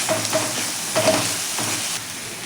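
Masala paste stirred into sautéing onions in a pan for dhaba-style whole masoor: a close, continuous sizzle with repeated scraping strokes of the spoon at an uneven rhythm.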